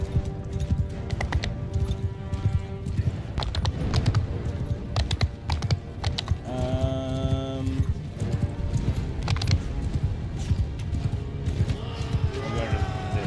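Horse hooves clip-clop in rapid gallop during a siege battle in Mount & Blade, a steady rhythmic drumming with a horse whinny partway through, while someone talks over the game sounds.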